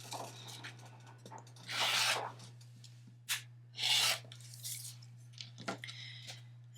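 Fabric quilt block being trimmed on its sides, several short rasping cuts of a rotary blade across fabric, close and separated by pauses over a constant low hum, no talking.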